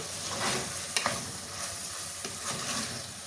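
Fried brinjal is stirred into a curry in a pan, giving a soft continuous sizzle with a couple of brief scraping clinks from the spoon, close by.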